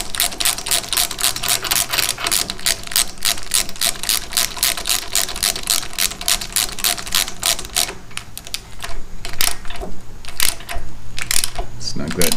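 A ratchet tightens an NGK BPR4ES spark plug on a small engine, its rapid, even clicks going steadily for about eight seconds before slowing into a few scattered ticks near the end.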